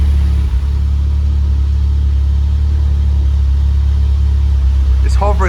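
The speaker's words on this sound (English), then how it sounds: "the idle's a little high because we're running cams. We gotta run about 1000 RPM idle." A Mitsubishi Evo X with aftermarket cams and ID1050 injectors idles high around 1000 RPM, a steady deep loud rumble throughout with a faint chirp near the end and no clear talking.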